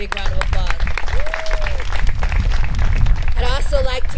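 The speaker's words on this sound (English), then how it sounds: "Let's give them a big round of applause" Applause from an outdoor crowd at a park fitness court launch, the clapping mixed with voices talking nearby and a brief high-pitched vocal sound standing out over the steady patter.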